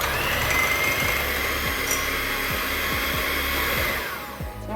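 Electric beater whirring as it beats eggs with vanilla essence for a banana oats bread batter: a continuous, loud close motor whine with faint rhythmic knocking of the beaters, tapering off at the end.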